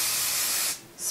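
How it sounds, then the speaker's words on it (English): Kenra Platinum hairspray number 14 blasts from an aerosol can in a close, loud, steady hiss lasting most of a second, then a brief pause and a second short burst. "I'm gonna do a little hairspray break because I'm annoyed."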